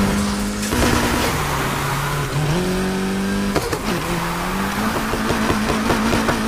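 In the Need for Speed Heat video game, police chase a Ferrari 458 at night: a loud, racing engine note rises and drops through gear shifts, with tire squeal and sharp impact sounds.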